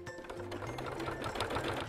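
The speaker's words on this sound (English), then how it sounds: "allow your sewing machine to feed the fabric through nice and evenly." A sewing machine stitches through thick fabric layers of a bag, a steady fast mechanical whir and rattle running close and continuously without speech.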